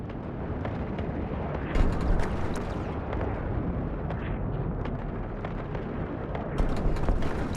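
An enemy ship exploding in the space game Eve Online, a dense roaring blast with crackling bursts layered over a continuous loud rumble, sustained throughout with a couple of sharper flare-ups.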